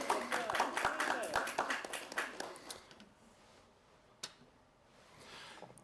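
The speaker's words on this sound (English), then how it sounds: "So give them a round of applause." Audience at the 2021 Top 7 Under 40 Whatcom Young Professionals live awards event claps in a dense burst of applause that thins out and fades after about three seconds, leaving quiet room tone with a single stray clap.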